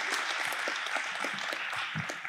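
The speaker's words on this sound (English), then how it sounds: "Let's give Dave a round of applause" Audience applause for Dave at a gathering of fathers, a steady dense wash of many hands clapping, loud and continuous for the whole stretch with no voices over it.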